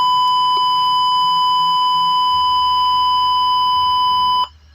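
A buzzer alarm in a Wokwi smart greenhouse simulation sounds one loud, steady electronic tone that holds for over four seconds and then cuts off abruptly, with no talking.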